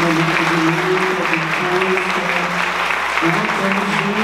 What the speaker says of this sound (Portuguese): Uma salva de palmas para os protagonistas, mas uma salva bem forte para todos os jovens que ocupam os espaços escolares